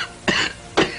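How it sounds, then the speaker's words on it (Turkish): A person coughs twice in a 1973 Turkish film, two short harsh bursts about half a second apart, close and fairly loud, with no talk. "Bak, bak gene öksürüğün arttı."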